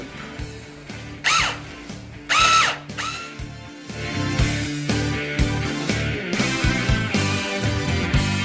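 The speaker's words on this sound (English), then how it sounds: "Basically, literally drilling into the body." A power drill bores into the body panel of a 2016 Corvette Stingray during a side skirt installation, with several short loud whirring bursts that rise and fall among mechanical clicks and rattles close by.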